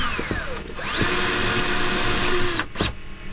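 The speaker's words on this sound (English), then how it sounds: "All right, I'm gonna start drilling right there. A little hole." A power drill bores a small hole in an RV, its motor whining loud and steady up close for a few seconds before briefly dropping away and cutting out.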